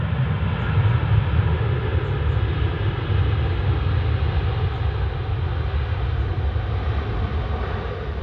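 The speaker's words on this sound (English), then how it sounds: "Norse coming in from Bridgetown, flight 5X76, 787-9" A Norse Boeing 787-9 arriving at Manchester Airport gives a steady, loud jet roar with a deep low rumble that holds evenly throughout, with no voices.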